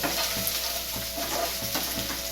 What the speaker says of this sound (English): A nice stir again, it's nice and golden brown.